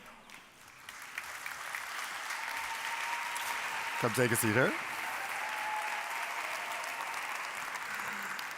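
An audience in a hall at an energy and climate forum gives steady, moderately loud applause that builds and holds. Someone speaks briefly over it midway.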